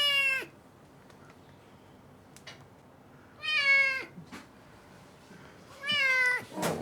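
A kitten with a broken leg meows in two clear, drawn-out cries at a shelter, each call loud and close with rising and falling pitch, separated by quiet pauses and faint background noise.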